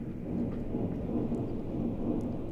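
The thunder voice of an Allen GeniSys organ, played from the pedals, makes a steady, dense low rumble with a rain-like wash that holds at an even loudness throughout.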